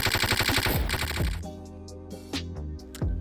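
Automatic gunfire from a Roblox FPS game pounds out in a fast, loud burst of evenly spaced shots, then breaks into a few separate heavy reports with ringing tails.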